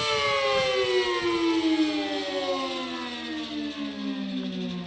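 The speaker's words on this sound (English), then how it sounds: "You can hear the scraping over the siren." A civil defense siren winds down, its falling harmonic tone steady and loud across the whole stretch, with a rough scraping from a badly worn bearing running underneath; no voices.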